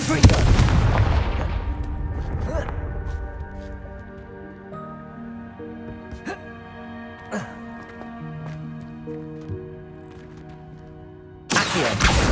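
Confringo fire spells from the video game Hogwarts Legacy burst out in a loud opening blast, followed by a few sharp cracks over a sustained musical score, and another blast hits at the end.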